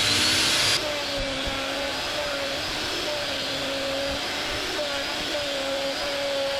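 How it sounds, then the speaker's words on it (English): A workshop extractor fan runs steadily, a broadband whooshing roar with a sustained tonal hum that holds for several seconds, loud and close, with a brief burst of louder noise at the start. "We're about to put the extractor fan on."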